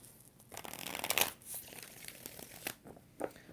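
Tarot cards are shuffled close up in a quiet room, a dense papery riffle and flutter of brief crisp bursts with softer shuffling in between and no talking.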